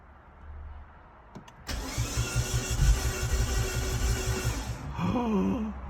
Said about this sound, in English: The exhaust isn't connected, so it might be noisy if it does fire.